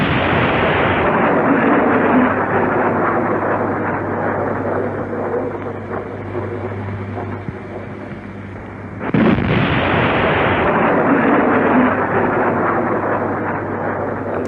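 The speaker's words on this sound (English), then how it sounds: "German artillery, positioned just across the English Channel in France, could fire directly into a part of Kent" German big guns fire across the English Channel from France into Kent in a wartime artillery duel, heard as a dense, continuous roar of heavy bombardment with a sharp fresh burst of blasts about nine seconds in, with no talk.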